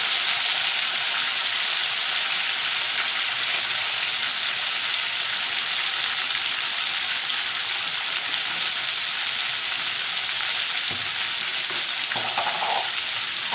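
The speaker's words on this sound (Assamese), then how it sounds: "দি এতিয়া অকণমান ভাজি ল'ম।" Pumpkin pieces fry in a pan of hot oil for a fish curry, giving a steady, even sizzle that fills the whole stretch, with a few faint clinks near the end.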